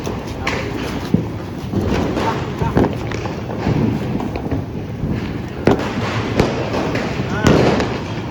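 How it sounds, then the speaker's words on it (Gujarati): A large fountain firework burns during a Diwali street celebration in Surat, giving a continuous crackling hiss broken by scattered loud bangs and thumps from nearby crackers, with people talking over the noise. "હવે આગળ મોટું ઝાડવું હળગાવવાનું છે મિત્રો"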